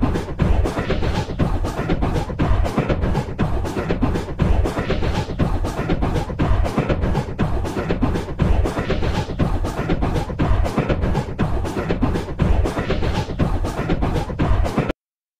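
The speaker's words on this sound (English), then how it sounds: "By generating 24 noise bands and letting the brightness of each pixel row steer their respective envelopes, we can generate an auditory representation of the extracted rhythm." Fully synthetic rhythm built from 24 noise bands whose envelopes follow an extracted rhythm, a dense, steady stream of hissing pulses with rapid regular beats, loud and continuous, then cutting off abruptly at the end.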